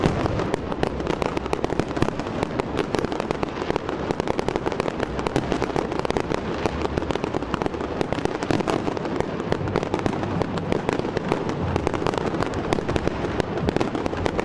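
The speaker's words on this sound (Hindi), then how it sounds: "12 बजते ही आसमान पर आतिशबाजी के ऐसे रंग बिखरे कि देखने वाले दम बखुद रह" New Year fireworks over Berlin crackle and pop in a dense, continuous barrage, loud and sustained with countless overlapping bangs and sizzles.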